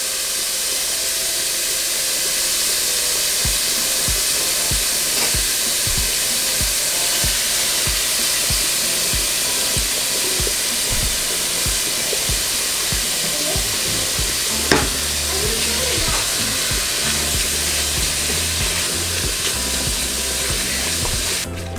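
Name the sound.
bacon and chorizo sizzling while frying in a pan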